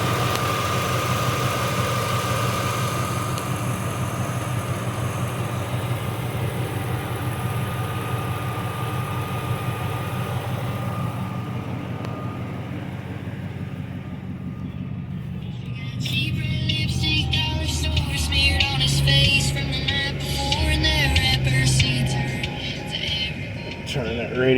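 A pickup truck idles with a deep, rumbling exhaust note, steady and close at first, then joined by busier mechanical clatter and a rising throb in the second half, with no one talking over it.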